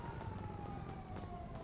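A faint, steady video game siren wails in the distance, its tone sliding slightly, over a low rumbling background.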